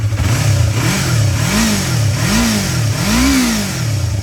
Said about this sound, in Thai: เดี๋ยวลองฟังเสียงเครื่อง ฟังเสียงท่อนะครับ